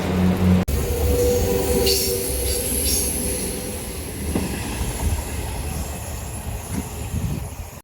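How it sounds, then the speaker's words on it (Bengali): A Howrah–Amta local train rolls into Jhaluarber station in South Bengal during the monsoon, its steady rumble of wheels and carriages filling the whole stretch with faint squeals over the top. "ট্রেন ঢুকছে হাওড়া আমতা লোকাল"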